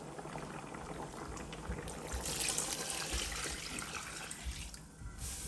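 Water pours steadily into a soup pot of beef soup with a continuous splashing, gurgling rush, fairly close and moderately loud throughout.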